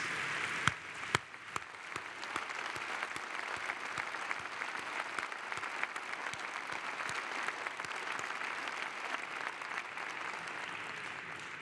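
Sustained applause from a large crowd in the central courtyard of Mexico's National Palace during a government report, dense clapping that holds steady the whole time, a few sharper claps standing out near the start.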